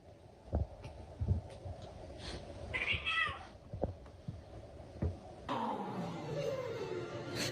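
A cat meows, a bright tonal cry in the middle among scattered thumps and rustles, followed by a louder drawn-out caterwaul near the end, close by with no talk.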